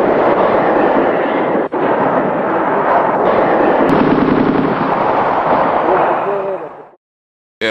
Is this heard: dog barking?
no